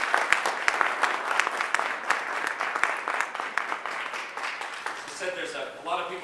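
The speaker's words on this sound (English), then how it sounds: "let's have a round of applause for the 10th Illinois Volunteer Cavalry Regiment" Audience applause at a memorial event honoring a cavalry regiment, a steady crowd clapping with distinct sharp claps early on, fading as a voice begins speaking near the end.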